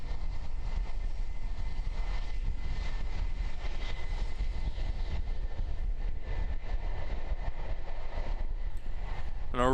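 Jetstar jet airliner engines roar at takeoff at an airport on a windy evening, a steady broadband rumble at moderate distance mixed with wind noise, with no voices.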